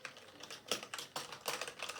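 Typing on a Cosmic Byte GK-11 mechanical keyboard with an aluminium front panel, a quick run of crisp key clicks in an irregular rhythm, close and fairly quiet, alone.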